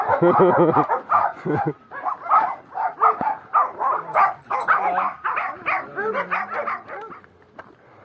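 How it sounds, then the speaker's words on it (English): Several dogs bark and yip repeatedly in an irregular, overlapping chorus at a rural mountain hiking spot on Tenerife, fairly close and continuous throughout. "Many dogs are here."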